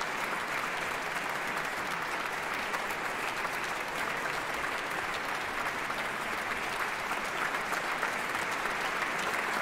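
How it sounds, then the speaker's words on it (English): A large audience keeps up prolonged applause in a concert hall after Sibelius's Night Ride and Sunrise, a continuous, uniform crackle of clapping that holds steady in level, distant and spacious, with no speech over it. "They're still applauding for you."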